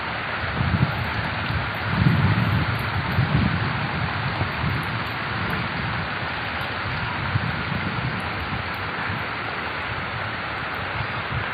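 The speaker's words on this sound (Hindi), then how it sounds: "बहुत तेज़ बारिश है।" Heavy rain pours steadily over a village, a dense continuous hiss with low rumbling that suggests thunder, strongest early on, with no voices heard.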